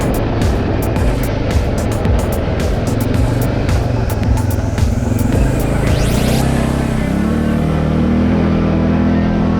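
A TGB Target 600 ATV accelerates hard on a dusty mountain trail during a group ride. Its loud engine drones and climbs in pitch near the end, with other engines blending into the roar.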